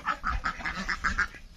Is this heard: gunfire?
no